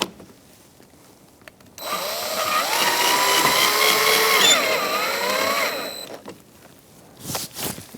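Power drill driving screws into the headlight of a 2004–2009 Mazda 3, one steady whirring run of about four seconds with shifting pitch, close and loud, followed by a few faint clicks and rustles.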